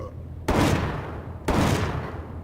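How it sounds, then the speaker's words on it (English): Two loud, sharp magnum revolver shots from the M29 in Resident Evil 5, fired about one second apart, each with a sudden hard onset and a short decaying tail, with no talking. "So, 4 shots with the M29 on a Big Mamagini,"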